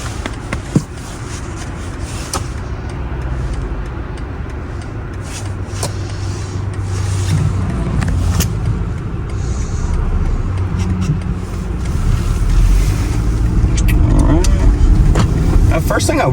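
A 2023 BMW X3 SUV creeps along a snowy road, its engine and tire rumble a steady low drone throughout, with occasional interior clicks and thumps.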